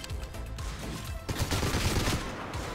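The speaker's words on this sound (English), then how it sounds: "Stop shooting at me, Master Chief." Rapid gunfire in a Halo video game, dense bursts of automatic shots rattling close and loud, with a heavier volley in the second half and no speech.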